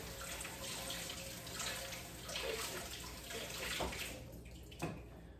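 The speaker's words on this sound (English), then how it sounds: "We gotta wash the spinach because it's on the Dirty Dozens list, one of the dirtier vegetables." Spinach rinsed under a running tap: a steady, close rush of splashing water that carries on throughout, with a brief clunk near the end.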